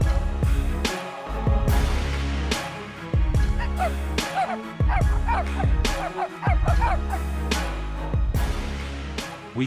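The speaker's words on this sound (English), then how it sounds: "The sound of hunting dogs began rising from ahead." Hunting dogs bark repeatedly in a forest during a wild boar hunt, giving loud, close, sharp yelps and bow-wows in irregular bursts, some overlapping, with short pauses between.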